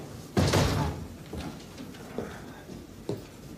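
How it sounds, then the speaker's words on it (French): A door shutting on a 1983 French film set, a single firm thud followed by quieter knocks and shuffling, close and fairly loud with no talk. "Ferme la porte."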